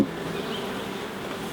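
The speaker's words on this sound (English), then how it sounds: "The bee's up there." Honey bees buzzing steadily around an opened hive during a swarm-prevention inspection in the UK, a dense, continuous drone close by without interruption.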